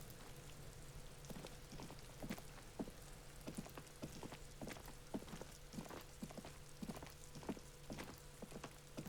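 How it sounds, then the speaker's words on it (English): Steady rain patters throughout a scene in the video game Disco Elysium, with frequent sharp drop taps and splashes over a soft, constant hiss and a low background hum, no voices. "It's raining again."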